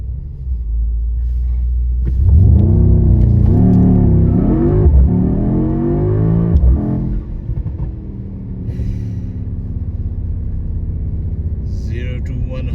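A 2025 Mercedes-AMG GT63 S E Performance four-door coupe accelerates hard, loud rising engine revs climbing through gear changes over deep rumble, then settling into a steadier cruising drone.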